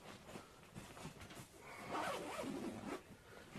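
Zippers on a co-angler fishing gear bag being pulled open, a close, continuous rasping run that swells louder midway, with no talking.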